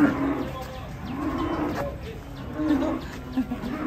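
A cow lows repeatedly nearby after being unloaded from a truck, drawn-out moos rising and falling against faint outdoor background noise.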